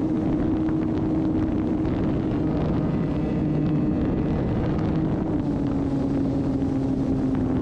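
An electric RC trainer airplane on a 21.4-volt flight pack drones at full throttle through a loop, a steady buzzing motor tone shifting slightly in pitch over wind rush, close and loud throughout.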